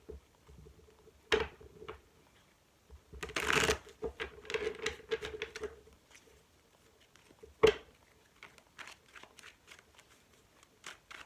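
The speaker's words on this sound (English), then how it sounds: "Do one more shuffle." Playing cards are shuffled in quick riffling bursts with soft taps and pauses between them, close by and fairly quiet.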